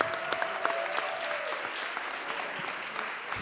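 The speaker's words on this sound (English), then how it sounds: "Clap your hands for Green Seed." A crowd at the final presentations of a German-Brazilian EdTech hackathon claps steadily, with individual sharp claps standing out and a brief whistle-like tone early on.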